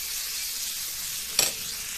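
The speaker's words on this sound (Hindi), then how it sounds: "और उसके बाद हम फिर से एक बार इसको अच्छे से स्टर कर लेंगे।" Paneer filling with lemon juice sizzles in a hot pan under a soft continuous hiss, broken by one short, clear scrape of a spoon stirring it through.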